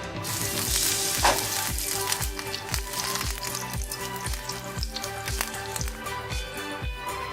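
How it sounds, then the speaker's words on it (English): A pinch of asafoetida and chopped garlic sizzle in hot olive oil in a pan, a steady close crackle with regular stirring scrapes and no talking. "I am adding a pinch of asafoetida, chopped garlic,"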